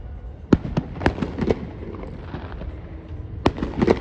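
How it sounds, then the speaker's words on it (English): Fireworks burst at Asbury Park, several sharp cracks and booms at irregular intervals with echoes rolling off nearby buildings and a crackling wash between blasts. "Looks like fireworks are going on inside this house."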